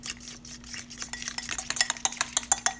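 A utensil stirs beer batter seasoned with chili and garlic powder in a bowl, wet scraping and clicking strokes growing quicker and louder toward the end.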